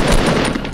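A dense burst of gunfire in Fortnite Battle Royale, loud and close, lasting under a second as one continuous blast of shots.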